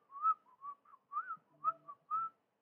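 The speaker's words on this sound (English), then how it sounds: "I just like start whistling just random stuff" A person whistles a casual, random tune in short melodic phrases with brief pauses between them, close and clear with no talk over it.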